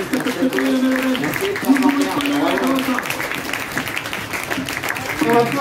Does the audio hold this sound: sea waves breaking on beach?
no